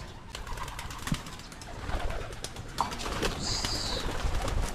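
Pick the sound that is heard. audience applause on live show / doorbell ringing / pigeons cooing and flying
pigeons cooing and flying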